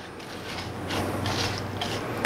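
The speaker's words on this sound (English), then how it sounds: "I'm keep mixing so there's no dry ingredients in this bowl" Graham cracker crust mixture stirred in a bowl for an icebox cheesecake, a steady scraping and rustling texture that runs throughout at low volume, with no voices.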